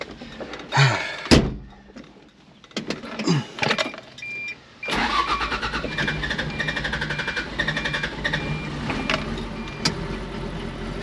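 Diesel engine of a vehicle cranking and starting after a few clicks and door sounds, then settling into a steady, close, clattering idle with no talk.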